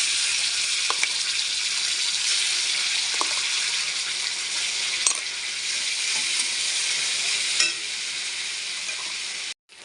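Ground bottle gourd leaf paste lands in hot mustard oil with garlic, setting off a loud, continuous hiss of frying with a few small clicks and stirring knocks, then cutting off abruptly.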